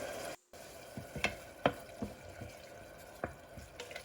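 Quiet cooking of onion and tomato sauce in a pot, with a few soft stirring scrapes and light sizzling against a low steady background hiss.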